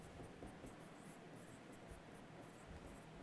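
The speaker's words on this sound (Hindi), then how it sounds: "मैं इसकी परिभाषा लैंग्वेज लिखता हूँ।" Pen or chalk writing out a definition in a physics lesson, a faint continuous scratching with small strokes and taps, quiet and without talk.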